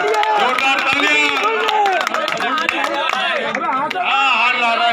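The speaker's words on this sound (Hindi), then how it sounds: "तालियां बजाओ भाई तालियां।" Crowd clapping mixed with lively music and babble at a turban-tying honor ceremony for a late ustad's successor, busy and loud throughout with voices over it.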